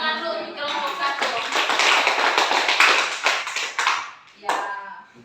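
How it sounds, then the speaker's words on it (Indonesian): Classroom applause for a presenting student group, a dense burst of clapping that swells and fades over several seconds, then a brief final clap. "beri tepuk tangan dulu untuk kelompok 1"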